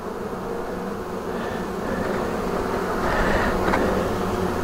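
A steady, dense buzzing of many honeybees at an open hive during inspection drones on without pause, close and fairly loud, swelling slightly toward the end.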